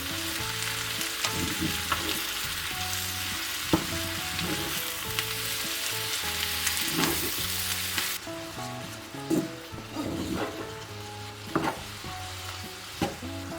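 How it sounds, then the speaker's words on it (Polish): Sliced button mushrooms frying in a pan, a continuous crackling sizzle with intermittent scraping clicks as they are stirred, the hiss softening partway through as moisture cooks off, with no voices. "I smażymy pieczarki e, do momentu, aż wyparują wody."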